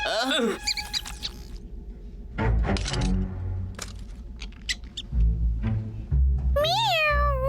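A cartoon cat meows in short rising cries amid crashes, clatter and animated speech in a Boonie Bears cartoon scene.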